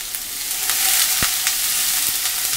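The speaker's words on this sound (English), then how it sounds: "Saute this well until onion also gets brown" Chopped onions sautéing in a pan for dhaba style chicken, a dense continuous sizzle with a few spatula taps and scrapes, close up and alone without talk.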